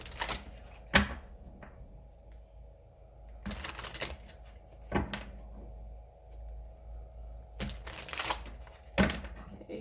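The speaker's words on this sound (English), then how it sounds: "one more shuffle, please." Tarot cards being shuffled during a reading, heard as several separate bursts of crisp riffling and slapping at fairly close range, set apart by quiet gaps.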